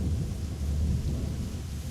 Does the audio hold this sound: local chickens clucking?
no